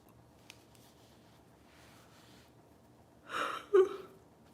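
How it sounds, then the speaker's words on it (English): A person yawns once during casual chit-chat, a short breathy swell near the end of an otherwise quiet stretch, fairly close and soft. "Sorry, I need to stop yawning"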